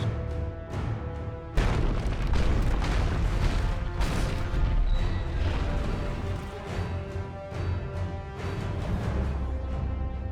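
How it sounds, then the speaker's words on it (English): A film set effect of an elf ship smashing through the columns of a vast hall, a loud crash followed by sustained rumbling booms and debris, dense and continuous. "this spectacular kind of crash from this elf ship which charges into it"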